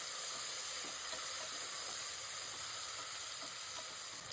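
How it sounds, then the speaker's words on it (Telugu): Onions and tomatoes for potato pulao fry in a pan with a continuous, dense sizzling hiss and faint stirring clinks. It sounds close and steady, with no voices. "టమాటాస్ కూడా వేయించి టమాటా ముక్క మెత్తగా అయ్యేంత వరకు వేయించండి."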